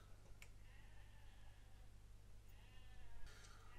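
Distant sheep give faint, drawn-out bleats through a steady low hum, one near the start and another toward the end, with no voices present.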